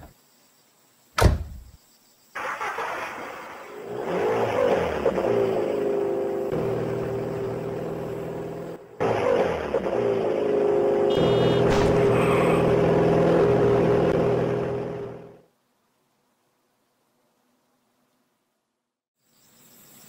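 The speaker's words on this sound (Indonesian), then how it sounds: "segera menaiki mobil hitam untuk menyelamatkan dirinya" A black car in the horror game Teke Teke Moonlit Dread starts with a sharp thud, then its engine hums steadily and builds through the drive away before cutting off abruptly into near silence.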